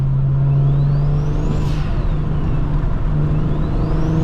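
BMW 335is engine and exhaust droning steadily while driving, a loud constant low tone with faint rising and falling whine above, windows partly down, continuous with no talk.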